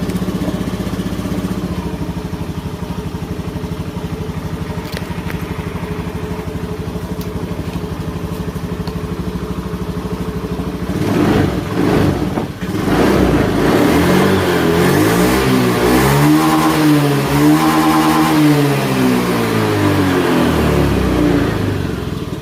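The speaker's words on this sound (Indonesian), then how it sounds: "Nah, baru kita gas motornya." Honda Scoopy scooter engine idling steadily, then revved repeatedly in rising and falling sweeps, close and loud with no talk.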